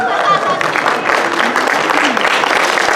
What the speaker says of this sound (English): Until she stands, you have to keep applauding